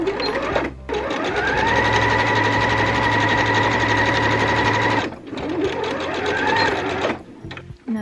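A sewing machine stitches fabric for a patchwork Christmas stocking, running in a steady loud whir for about four seconds, pausing briefly, then running again before stopping.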